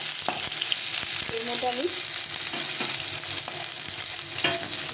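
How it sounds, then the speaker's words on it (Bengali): Onions warming in a hot pan give off a steady sizzle while a spoon scrapes and taps through them; a voice speaks briefly. "এখন আমি এখানে পেঁয়াজগুলো একটু গরম মতো দিয়ে নিচ্ছি।"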